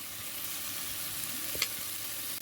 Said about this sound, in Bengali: আদা রসুনটিকে আমি ভালো করে কষিয়ে নিব